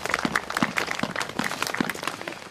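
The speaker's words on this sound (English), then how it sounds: "we'll give him a nice round of applause" Audience applause at an outdoor Veterans Day ceremony at the Stillwater, Minnesota veterans memorial, for a high school brass ensemble: a short, fairly sparse patter of hand claps with a few distinct louder claps, moderately near.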